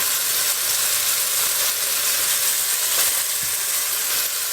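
Flour-coated meatballs fry in a pan, a loud, even hiss of sizzling oil that runs unbroken from start to end with faint shifts in intensity.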